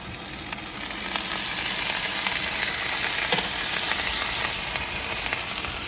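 Mushrooms dropped into a hot frying pan in an RV kitchen, a steady close sizzle and crackle with a few faint clicks, moderately quiet, no talking over it.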